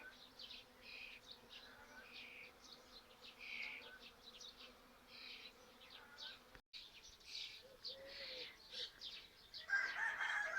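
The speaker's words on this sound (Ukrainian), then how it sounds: "А сьогодні тут літають тільки бджоли, які прилетіли на цвіт бузини." Steady insect buzzing from many bees on elderflower blossoms, with faint bird calls and a rooster-like crow nearby; a continuous hum throughout.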